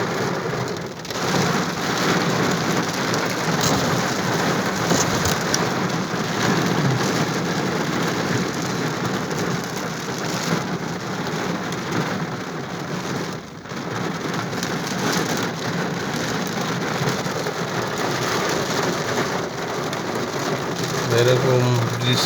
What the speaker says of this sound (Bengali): বৃষ্টি সৌদির মানুষ আর চোখে দেখে না।